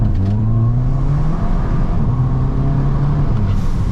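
A 280 bhp Volkswagen Scirocco accelerates hard from 0 to 60, a steady loud engine drone with rising tonal pitch sweeps as it climbs through the gears, heard from inside the car.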